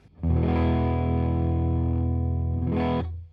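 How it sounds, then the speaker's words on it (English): A single Stratocaster chord through a Fuzz Face style pedal with gain all the way down, mild fuzz sustaining evenly for about three seconds, warm and slightly muffled, then a brief scrape as it is cut off. "We're going to start with the Fuzz Face. Gain's all the way down."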